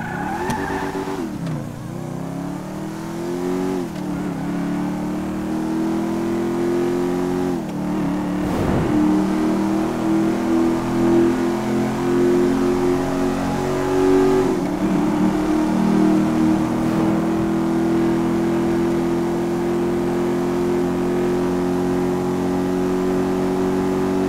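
The Bullet car in GTA 5 revs its engine in a steady, smooth, mid-pitched drone that rises and settles a few times, loud and alone with no talk.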